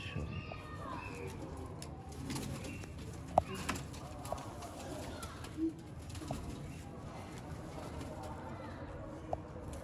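Pigeons cooing softly at a pigeon fancier's show of prized high-flying birds, a low steady murmur of coos with a few sharp knocks and brief voices in the background.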